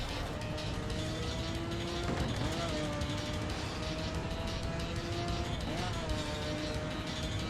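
Racing car in a driving video game braking hard into a tight corner, steady engine drone with tonal whine bending as speed drops, brief tire squeal, loud and continuous throughout.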